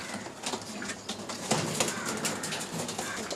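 Pigeons coo steadily amid a busy background hum at a pigeon market in Uluberia, Howrah, where pairs of brown mukhi pigeons are on sale.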